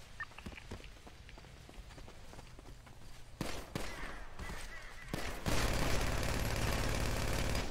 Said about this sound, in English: You're getting shot at.